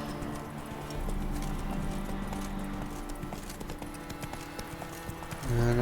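Roach the horse's hooves clip-clop in a steady walking rhythm in a video game, close and fairly loud over game music and ambience.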